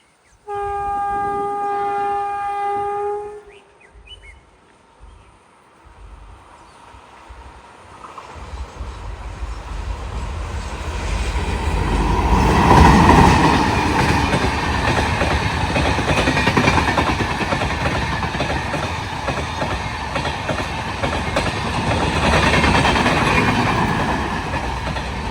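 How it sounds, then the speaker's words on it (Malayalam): A KSR Bengaluru–Kannur Express passing at Ezhimala: a loud multi-tone horn sounds first, then after a short lull the train roars past close by with rumbling wheels and rhythmic clickety-clack that stays loud to the end. "നമ്മുടെ KSR ബംഗളൂരു കണ്ണൂർ എക്സ്പ്രസ് ആണ് ഇപ്പോൾ അങ്ങോട്ട് പോയത്"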